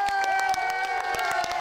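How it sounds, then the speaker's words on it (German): A concert crowd claps and cheers, steady rhythmic applause with shouts layered over sustained musical tones, loud and continuous for the short stretch. "Ich zähle bis drei und dann will ich den lautesten Applaus hören, den ihr raushauen könnt."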